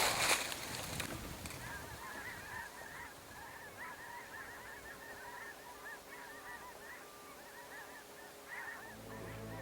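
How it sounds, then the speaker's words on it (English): Migrating snow geese honk as flocks fly over, a steady chorus of repeated calls at a distance, heard alone over quiet outdoor background with a brief knock at the start. "We've seen a few flocks of snow geese fly over, migrators you might say"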